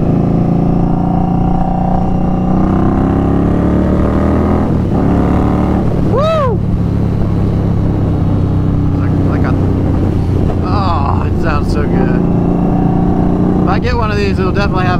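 A custom 2019 Indian Scout Bobber with an aftermarket exhaust is ridden, its engine droning loud and steady under heavy wind rush, with someone talking over it at times.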